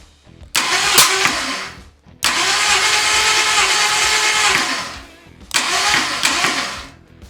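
A 1964-era engine is cranked for a compression test on a motor suspected of coolant in the oil, three loud bursts of rapid rhythmic starter churning separated by short pauses, close and with no talking.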